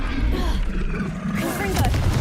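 A Confringo blasting spell goes off in the Hogwarts Legacy game with a deep booming burst amid busy combat noise, and a voice is also heard.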